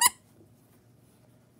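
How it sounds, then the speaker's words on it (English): One short, sharp squeak from a squeezed Among Us plush toy, heard alone at the start before near silence. "I just realized they're squeaky."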